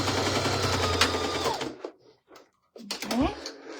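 A sewing machine stitches a bowl cozy, running steadily and close for about a second and a half before stopping, then a short second burst of stitching follows, with a person talking over it.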